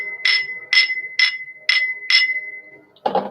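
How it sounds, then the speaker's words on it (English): Bright chimes ringing five times in an even, slow rhythm, each strike clear and ringing briefly, followed by a short muffled knock at the end. "Second round of chimes."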